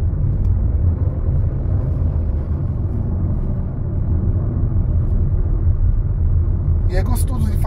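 A 2025 Citroen C3 You with a 1.0 turbo engine takes a curve, its steady low road and engine rumble filling the cabin without a break, with a short sharp chirp near the end.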